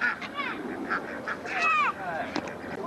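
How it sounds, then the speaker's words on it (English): Geese honk repeatedly in short bursts while trailing after a person on foot, the calls close and fairly loud, with a few overlapping honks clustered together. "The birds are following me."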